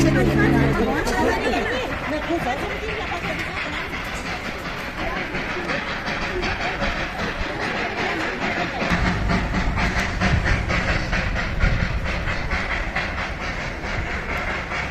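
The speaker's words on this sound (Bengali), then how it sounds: "টয় ট্রেন আসছে, আওয়াজ পাওয়া যাচ্ছে।" The Darjeeling toy train rumbles and hisses as it approaches along the mountain railway near Ghum Monastery, with crowd chatter and voices mixed in around it.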